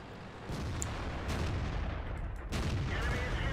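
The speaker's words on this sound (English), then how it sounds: "I put a shot into the KV4." Tank cannon fire in World of Tanks, with a heavy boom at the start followed by further booming blasts near the middle and end, each leaving a rumbling decay.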